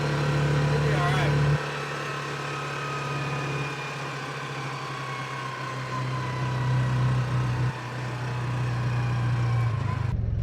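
A Cub Cadet Challenger MX 750 EPS UTV runs in four-wheel drive with a steady low engine drone that shifts pitch a few times, close and continuous throughout.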